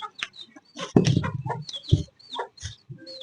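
A rooster clucks and grumbles in short bursts near the microphone, some calls louder and throatier, with faint chirps from other birds in between.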